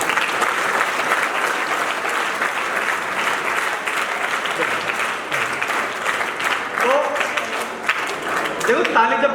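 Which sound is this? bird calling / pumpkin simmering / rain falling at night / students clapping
students clapping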